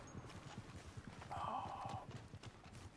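Rapid hoofbeats of a horse in Red Dead Redemption 2 clip-clop in a galloping rhythm, moving off, with a brief whinny partway through and faint speech underneath.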